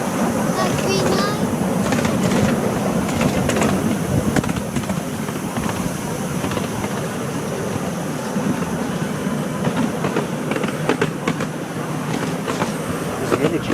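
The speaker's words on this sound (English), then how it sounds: "There's another train down there." A train rolls past with a continuous rumble and clickety-clack wheel rhythm, scattered clicks and a brief high squeal near the start, heard from nearby at steady loudness; voices can be heard faintly underneath.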